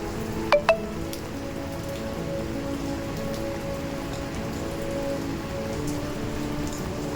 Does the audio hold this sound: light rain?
yes